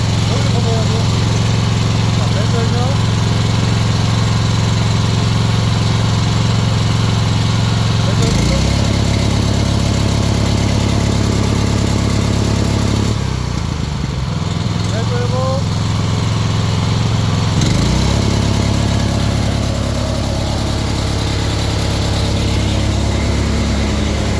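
The engine of a large automated high-pressure washer runs loud and steady right after starting, a constant low droning hum that briefly shifts pitch a couple of times, with a person speaking over it.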